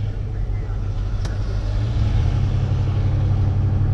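A 1972 Chevrolet Monte Carlo cruises down a road with a smooth, steady low engine and road rumble heard from inside the car. The hum is constant and gently swells toward the end.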